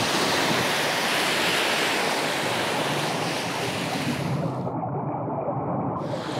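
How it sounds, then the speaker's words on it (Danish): Wind and surf wash steadily over a reef off Torø on Funen, a dense continuous roar of turbulent water and gusting air, loud and close with no voices. "Der er en rigtig god vind herude på revet i dag. Og det skaber en masse turbulens i vandet."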